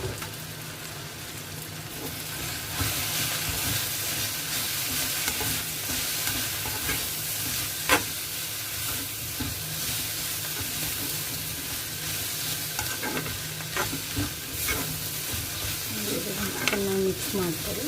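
Vegetables frying in a pan with chili powder and pepper powder for egg fried rice, stirred steadily, with a continuous sizzle and frequent scraping strokes throughout.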